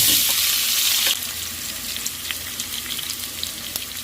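Frozen garlic and then onion fry in hot oil in a home kitchen, a loud steady sizzle that drops slightly in level partway through, with occasional stirring clicks and no talking.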